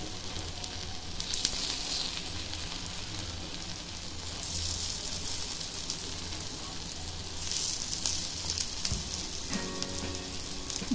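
Rice flour appe fry in an appe pan over a low gas flame, giving a steady soft sizzle and crackle that runs throughout, with a brief clink of metal near the end.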